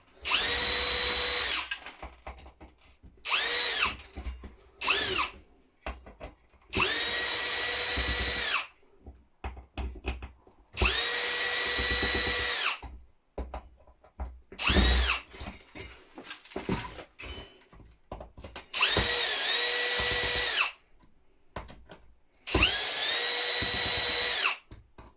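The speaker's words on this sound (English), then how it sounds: "So again, just get the drill" A power drill backs out a line of screws holding a heatsink on scrap electronics, running in about eight loud, close bursts of a few seconds each, separated by short pauses and clicks.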